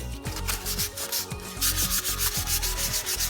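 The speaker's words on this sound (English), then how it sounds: "sand until you get all your pieces, pleasant to the touch" Wood box pieces being sanded by hand with sandpaper: rapid rhythmic back-and-forth scratching strokes, close and steady, about three strokes per second with no talking.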